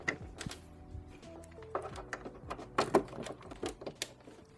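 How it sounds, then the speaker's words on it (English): Home sewing machine stitching a new seam on a stretchy T-shirt during a thrift-flip halterneck cami project, heard as quiet, uneven mechanical clatter with short bursts and clicks, close by and with no talk. "I'm going to take this over to my sewing machine and I'm going to sew this new seam closed."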